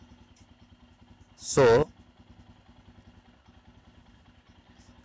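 A Royal Enfield Himalayan motorcycle engine idles with a steady, even low thumping pulse, and someone briefly speaks over it midway.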